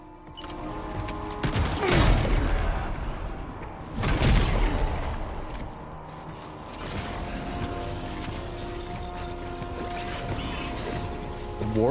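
Warrior shotgun fired in Death Stranding 2, two heavy booming blasts about two seconds apart with rattling mechanical tails, then quieter handling sounds and low game ambience.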